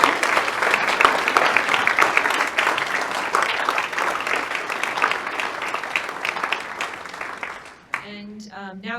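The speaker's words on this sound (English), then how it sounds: "round of applause for everyone" An audience at a Canine Companions graduation ceremony applauds in a sustained, loud burst of clapping that fades near the end, and then a voice begins talking.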